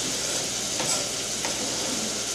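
Onions and peppers fry in a pan with a steady, close, broadband sizzle that runs without a break, and no voices are heard.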